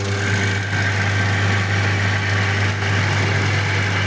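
A ceiling fan coil winding machine running nearby, giving a loud, constant motor hum with a low droning tone and faint vibration, with no talking.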